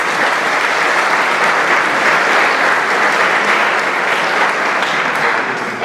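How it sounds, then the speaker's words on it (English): An audience at a school booster club event gives a round of applause, dense steady clapping that stays loud and full for about six seconds before it starts to fade. "Let's give Ted Bell a round of applause."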